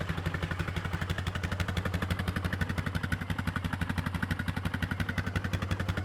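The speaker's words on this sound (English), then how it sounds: "Seems to be idling good." A small ATV engine idles steadily with a fast, even chugging pulse, fairly quiet and close, running alone without any talking.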